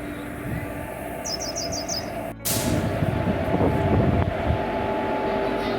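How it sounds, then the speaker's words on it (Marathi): A freight train rumbles steadily through a station, with a brief sharp burst midway and a string of quick bird chirps early on. "आता प्लॅटफॉर्म नंबर 2 वरून मालगाडी आता जात आहे"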